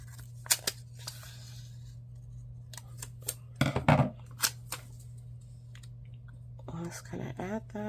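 Scissors snip through paper while a Christmas planner page is trimmed, with a few quick close cuts and some light handling clicks, followed by soft speech near the end.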